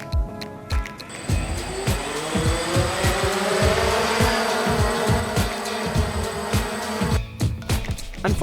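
DJI Phantom drone fitted with Phantom 1 propellers whirring steadily nearby, a dense buzzing hum with repeated low thumps and clicks throughout.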